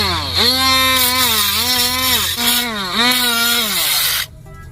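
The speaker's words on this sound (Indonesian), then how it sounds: "Nanti akan saya amplas terlebih dahulu supaya nanti kita bisa melihat hasil ketika sudah rapi." A power sander whines steadily, its pitch dipping and rising in waves as it bears down on dried glue on a hard surface, then cutting off abruptly near the end.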